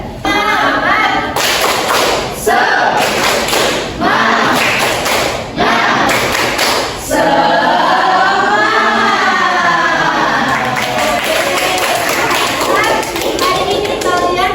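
A primary school class claps out a rhythmic 'tepuk semangat' chant, loud sharp bursts of group clapping in patterned groups alternating with children's chanted voices, all close and energetic.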